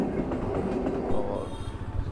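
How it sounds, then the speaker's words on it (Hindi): Shantipur local train rumbling past close by, a continuous loud rolling roar of wheels on the rails. "और एक ट्रेन आ रही है जो कि लोकल ट्रेन है और इस ट्रेन का नाम है शांतिपुर लोकल"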